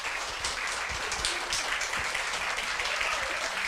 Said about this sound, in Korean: 여러분 나오기가 부끄러울 것 같은데 잠깐 박수 좀 부탁드립니다.